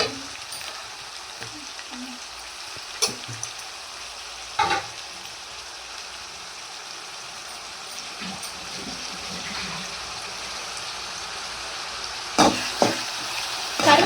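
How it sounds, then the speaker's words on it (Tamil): Onions sauté in a pan with a low, steady sizzle and a few occasional scrapes and clinks of stirring, fairly quiet and close, with a couple of brief louder bursts near the end. "நிறைய வெங்காயம் போட்டுக்கலாம் வெங்காயம் நல்லா வதங்கட்டும்"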